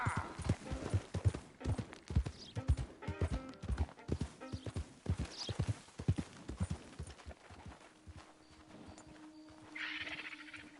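In Red Dead Redemption 2, a ridden horse's hooves clip-clop in a quick, steady rhythm that slows and stops, followed by a low steady tone and a soft rustle.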